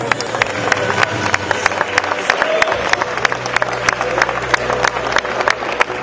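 An audience applauds and cheers at a Polish bodybuilding championship awards ceremony, with dense steady clapping and sharp individual claps cutting through the crowd noise.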